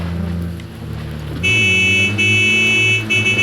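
A car engine in a video game revs and drones loudly and steadily, shifting to a higher pitch partway through, with no talk.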